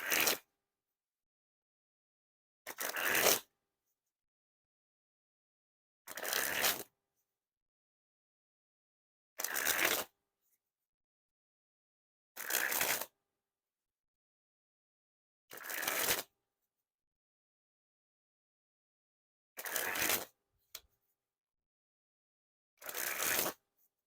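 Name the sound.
springing Grey Art of Play playing cards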